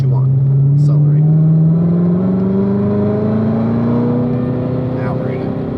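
A car's engine pulls steadily under acceleration, its pitch climbing smoothly over several seconds, loud and close, while a driving instructor coaches from inside the cabin.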